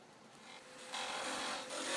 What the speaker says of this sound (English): The approach of using the gouge to remove the bulk of the material and then following up with my little scraping tool seems to work